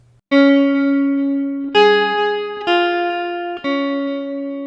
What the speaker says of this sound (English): the lead guitar is playing some stuff in the background too that sounds like this